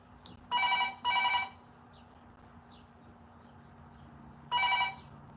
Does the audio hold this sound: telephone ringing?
yes